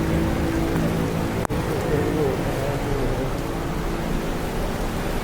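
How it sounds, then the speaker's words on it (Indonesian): Dense, steady downpour of heavy rain fills the whole clip with broadband hiss, one brief sharp crack partway through. "Pas bener, hujan deras."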